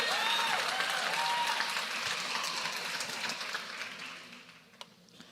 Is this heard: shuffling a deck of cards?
no